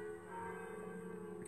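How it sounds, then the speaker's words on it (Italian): Bells ring faintly from a church beside a town square, heard at a distance as a soft sustained tone under quiet room ambience. "sono le campane qui di fianco"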